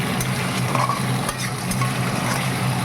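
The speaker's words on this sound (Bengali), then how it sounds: "আলু ভাজা হচ্ছে।" Potatoes fry in hot oil in a wok, a close, continuous crackling sizzle with faint scraping of stirring throughout, no voices.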